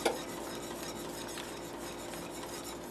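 Sauce being mixed in a bowl for crispy chip chicken breasts, a steady scraping and stirring with a few light clinks against the bowl, continuous and close, with no talk.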